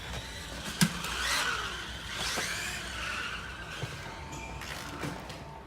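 A camera-mounted remote-controlled car drives and skids across a surface, with a few sharp tire squeals and scrapes over steady motor whir at moderate, fairly quiet level.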